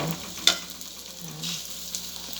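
Lechon kawali pork fat sizzles and spits in a hot pan as it is stirred, a bright steady frying hiss with a sharp scrape near the start and soft stirring movements throughout.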